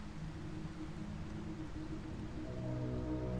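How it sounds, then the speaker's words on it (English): Soft, steady rain hiss with a low rumbling background in the video game Starfield, continuous and even, no voices. "It's raining."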